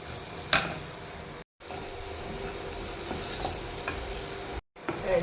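Shallots and a dried red chili sautéing in a pan for a Kerala-style dish, a steady close sizzle with occasional stirring scrapes and two brief cuts to silence.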